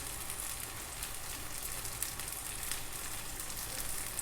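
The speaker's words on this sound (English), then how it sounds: "on high flame, my banana slices are getting roasted" Banana slices roasting in a pan over a high flame give a steady, dense sizzling hiss that stays even throughout, close and unbroken, with no voices.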